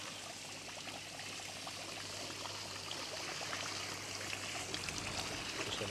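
Steady stream of water pouring from a koi pond waterfall blade and splashing continuously, a constant even rush with no voices.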